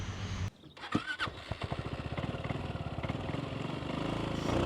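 Zontes 368G scooter engine pulls away on a ride up Gunung Jerai, a steady rhythmic engine drone building after a brief start, close and fairly loud throughout with no talk.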